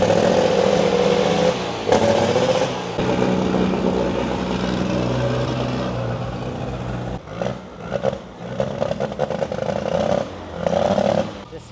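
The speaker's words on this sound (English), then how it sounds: "He's revving the engine, but it sounds a little funky." A diesel race car at an Isuzu race event in Thailand revs its engine with a rough, uneven note, bursts of revving rising and falling against background crowd noise and voices, sounding somewhat unhealthy.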